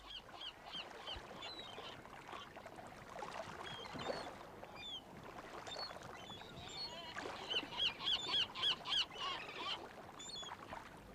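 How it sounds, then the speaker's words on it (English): Several dozen seagulls call from above a model railway layout, shrill squawks scattered through a busy ambient bed, with a run of rapid repeated cries rising near the end. "over the whole layout there are several dozen seagulls"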